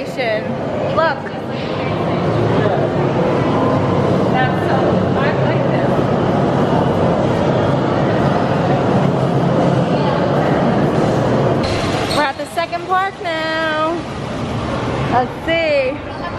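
A train rumbles through the London train station at a Universal Studios theme park, a loud, continuous rolling roar that fills most of the stretch, with people talking over it, the noise easing toward the end as voices grow clearer.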